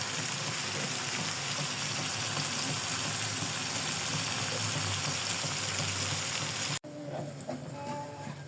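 Food frying dry in a pan on the stove, a dense continuous sizzle close by for most of the time, then a sudden drop to a quieter level with a faint clink near the end.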